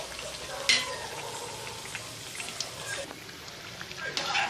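Masala vada fry in hot oil with a continuous crackling sizzle and occasional sharper pops, while a person talks over the cooking.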